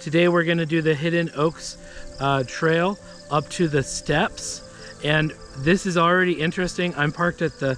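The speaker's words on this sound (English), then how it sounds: "then you can hear loudly these cicadas, and I've never heard cicadas up here" Loud, steady insect buzzing, likely cicadas, fills an outdoor trailhead parking area at Spanish Oaks Reservoir in Spanish Fork, running continuously beneath someone talking close up.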